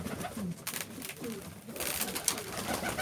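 Pigeons coo softly against steady background noise, the low calls repeating through a bustling outdoor setting with no talk.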